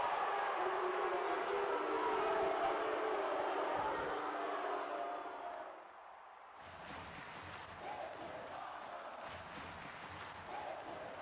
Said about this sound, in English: The crowd does not sound happy.